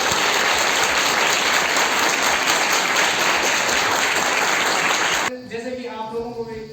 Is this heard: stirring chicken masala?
no